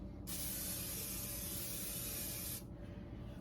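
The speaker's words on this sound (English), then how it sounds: "I'm going to give that a spray." Cooking spray hisses steadily onto a mini muffin tin for about two seconds, close and loud, then cuts off abruptly.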